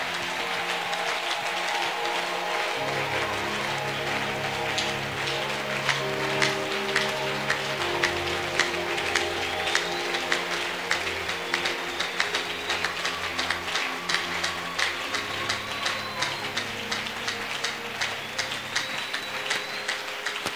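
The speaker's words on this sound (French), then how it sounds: "Merci pour tous ceux qui ont acclamé Jésus en étant debout." A standing church congregation claps for Jesus in a long, steady burst of crowded applause that sounds almost like heavy rain, with faint sustained tones and whistles behind it.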